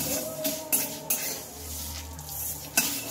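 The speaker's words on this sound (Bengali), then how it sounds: "ওর জন্য আমি সর্ষেটা একটু আগে ভেজে নিচ্ছি" Mustard seeds fry in a kadai for a raw mango pickle, with sharp metallic clinks and scrapes from stirring over a faint sizzle, heard up close.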